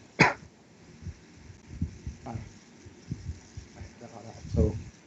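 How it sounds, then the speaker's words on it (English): A sharp cough near the start, followed by quieter scattered throat noises and soft movement sounds, with another cough-like burst near the end. "It's just making me cough here."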